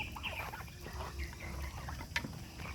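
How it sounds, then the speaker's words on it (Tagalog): Backyard organic turkeys feeding hungrily, giving faint, soft clucks and gobbling calls with light scattered pecking noises, quiet and close. "Kasi matatakaw ito, mga pabo. Matatakaw kumakain."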